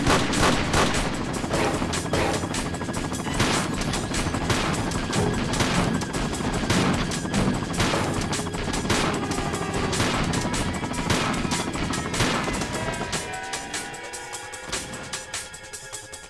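Rapid gunfire from shooting in a Tomb Raider level editor game, a dense stream of sharp repeated shots running loud for most of the stretch before tapering off, with no talk over it.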